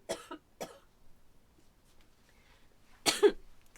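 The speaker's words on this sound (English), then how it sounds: "Excuse me, I'm going to cough." Three short, sharp coughs from a nearby person indoors, two in quick succession at the start and a louder third a few seconds later after near silence.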